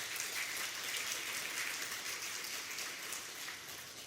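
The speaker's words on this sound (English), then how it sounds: "A big round of applause to the sponsors." An audience at a city club candidates forum applauds the sponsors with a steady wash of clapping, fairly faint and distant, tapering slightly at the end without speech.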